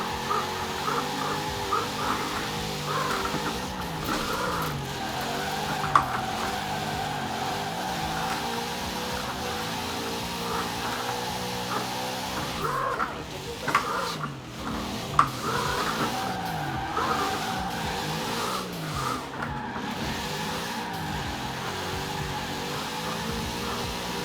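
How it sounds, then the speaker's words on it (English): A car drifts through corners with handbrake turns, its engine droning steadily and rising and falling with throttle over a long continuous stretch. Tire squeal and scrubbing sit faintly under the engine, with a couple of brief knocks. "this thing's got so much low end torque to keep itself going through corners like that"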